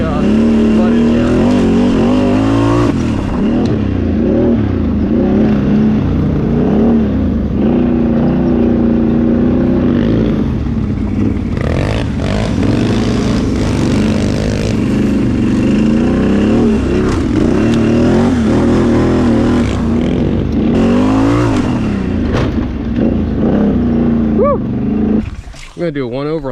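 Can-Am Outlander 850 XMR ATV engine running loud and close throughout, revving and surging continuously on a muddy trail ride, with a rider's voice talking over it.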